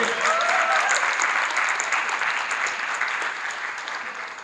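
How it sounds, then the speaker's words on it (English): Crowd clapping at a One Chicago fan convention panel, a full steady applause from a large audience that slowly fades toward the end. "Can we clap it up for Rapper John?"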